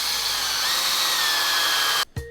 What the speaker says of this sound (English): now I just have to drill a hole straight through the middle